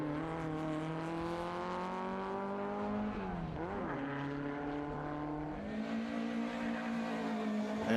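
Volkswagen Beetle race car with a 1.9 litre engine at a historic grassroots sprint meet, its engine droning loud and steady nearby, then dipping and rising again as the revs change, with no talk.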